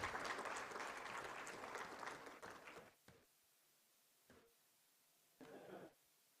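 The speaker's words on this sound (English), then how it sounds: "So let's clap for them" Audience applause at a startup summit: a dense crowd clapping fills the first three seconds, then dies away, leaving near silence broken by two brief, scattered bursts of a few claps.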